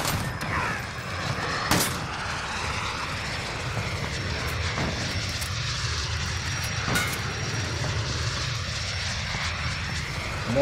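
A VTOL aircraft engine from Call of Duty drones steadily near and loud, a broad roaring hum with a couple of sharp bangs cutting through it.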